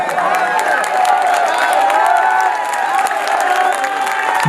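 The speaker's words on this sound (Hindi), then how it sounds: "इस बार कमजोर तालियों से सुनेंगे तो फिर मेरी शिकायत रहेगी आपसे।" An audience at a Hindi poetry recital by Imran Pratapgarhi breaks into loud, dense applause and cheering, a continuous roar of clapping that holds at a steady level from start to finish.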